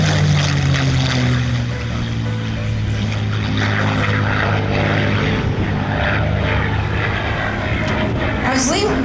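A P-51 Mustang named Crazy Horse flies airshow maneuvers at Sun 'n Fun 2021, its propeller engine droning loudly and continuously under an announcer's commentary.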